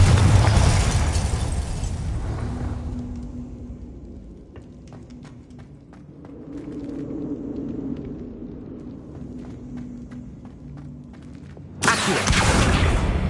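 Confringo spell explosions in the video game Hogwarts Legacy: a loud blast opens and fades into a long, low rumble, then a second burst erupts near the end.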